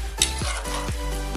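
A spoon stirs mutton biryani with soaked basmati rice in a boiling pot. Several scraping sweeps come in a steady rhythm over a continuous bubbling sizzle, with one sharper metallic clink near the start.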